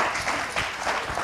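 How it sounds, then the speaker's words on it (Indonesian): Audience applause at a K-Link business gathering, a brief dense burst of steady clapping from a crowd, fairly close and without voices. "Tepuk tangan dulu, mereka."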